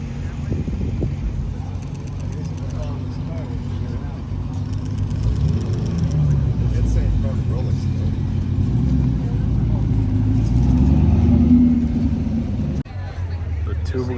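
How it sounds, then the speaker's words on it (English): A Bugatti hypercar pulls away on the streets of Monterey, its deep engine rumble building and swelling up close before easing off, with people talking over the sound. "And the Bugatti's leaving."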